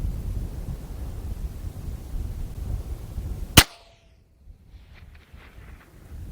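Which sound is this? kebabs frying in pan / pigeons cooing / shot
shot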